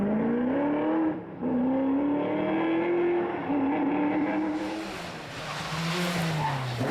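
A V8 Chevy-engined Vauxhall Firenza rally car at a historic rally roars hard and close, its engine note rising and falling through gear changes with tyre scrub as it passes, loud and continuous with no talk.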